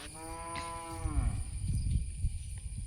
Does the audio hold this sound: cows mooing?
yes